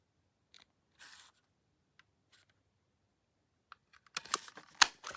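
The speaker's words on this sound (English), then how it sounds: "I'm going to attempt to cut a thumb notch, even though this is wet" Scissors snipping a thumb notch into wet paper for a handmade journal, with a few quiet separate clicks at first, then a cluster of louder, crisper cuts close by near the end.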